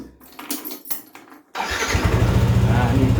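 A motorcycle fitted with an anti-theft kill switch starts abruptly partway through, then settles into a steady, close, rhythmic idle; quiet handling noises and some talk come before it.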